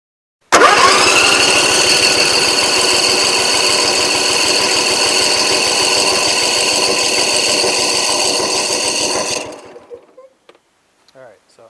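Briggs & Stratton 24 hp twin engine on a Husqvarna mower, low on power with one cylinder not building compression, cranking loud and steady for about nine seconds in a fast even starter rhythm without firing, then stopping.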